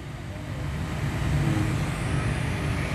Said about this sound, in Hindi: सिग्नल लाइटर में लगाने के बाद हमारा जो कंप्रेसर है वो ऑन है।